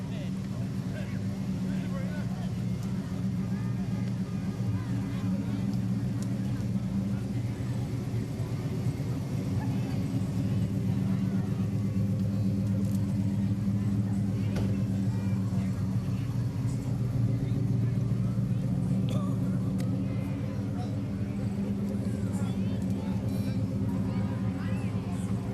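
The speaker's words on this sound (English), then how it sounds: "Another truck entry, an old Ford giving you the traditional look" An old Ford truck rolls past in a small-town Christmas parade, giving off a steady engine rumble and road drone. Crowd noise and an announcer's voice run continuously on top of it.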